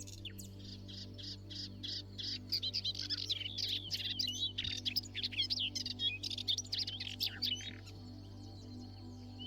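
Melodious warbler song in a Murcia, Spain field spot, a fast run of varied chattering, twittering phrases held steady for most of the stretch over a constant low hum, moderately close and alone.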